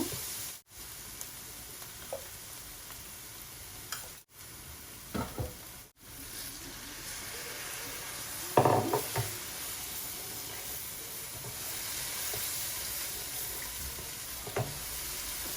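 Spices, including coriander, chili and mixed curry powder, sizzle steadily in a pan as they are stirred and fried for a radish and fish curry, with occasional scraping stirs over a continuous close frying hiss.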